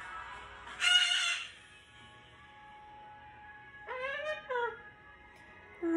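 A pet cockatoo gives a loud harsh screech near the start, then a second wavering, rising call after a pause, close by and alone with no talking.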